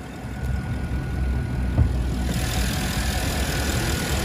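Porsche Panamera 4S with a 4-litre V8 idling steadily, a low, even rumble heard at moderate distance with no talk.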